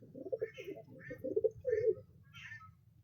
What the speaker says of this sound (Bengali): বন্ধুরা পায়রা দুটো স্ট্রং কোয়ালিটি দেখো